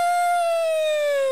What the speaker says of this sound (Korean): 갑자기 사이렌 소리 나면 놀라실까 봐